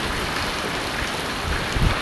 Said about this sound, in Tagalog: Grabe, ang lakas ng ulan mga guys.